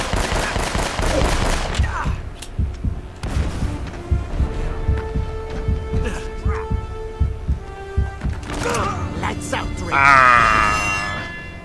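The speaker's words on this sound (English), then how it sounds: "Oh my goodness, who has a shotgun?" Close, loud shotgun blasts from Uncharted: Drake's Fortune, fired in quick bursts amid game music and grunts, with gameplay sound effects throughout.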